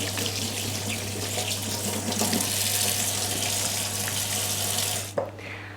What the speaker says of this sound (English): Now I'm going to wash my hands because they've got golden syrup on them